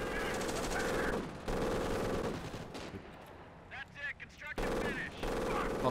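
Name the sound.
submachine gun fire in the video game Company of Heroes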